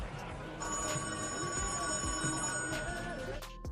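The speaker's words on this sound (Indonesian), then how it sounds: "Namun telepon berdering" A telephone rings with a steady electronic bell tone through a scene in a house deep in a forest, layered over a busy, noisy background.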